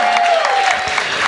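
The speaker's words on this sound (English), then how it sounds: "Give a gigantic cheer for Alex and let him know you appreciate him being here in Kansas City" Crowd at a Kansas City Chiefs fan event at Dave and Busters cheers and applauds steadily for quarterback Alex Smith, a dense, sustained wash of clapping and shouts with a faint tone running underneath.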